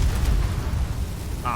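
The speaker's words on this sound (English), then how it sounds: "That's a bigger explosion than I expected." A grenade blast in the sci-fi video game Starfield, a loud, dense low rumble that fills the whole moment with a sustained booming roar and no talk over it.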